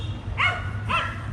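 A dog in a park in Dublin gives two sharp barks about half a second apart, moderately close, over a low, steady outdoor rumble.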